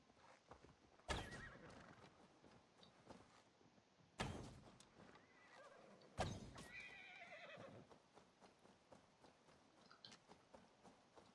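A horse neighs three times in the Assassin's Creed Valhalla video game, each whinny a loud sharp burst spaced a few seconds apart, with soft hoof steps and shuffling between them.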